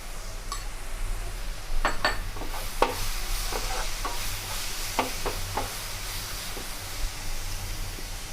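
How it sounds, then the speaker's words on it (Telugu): Masala with turmeric fries in hot oil for a fish curry, a continuous soft sizzle broken by a series of sharp spatula clinks and scrapes against the pan, close and without talk. "ఆయిల్లో మసాలా అంతా ఫ్రై అవుతూ ఉంటుంది"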